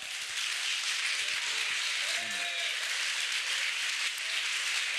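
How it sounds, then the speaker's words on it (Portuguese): A church congregation applauds together, a steady, dense wash of clapping that holds evenly throughout with no pauses, with a faint voice briefly showing through underneath. "Aplaudam o Senhor"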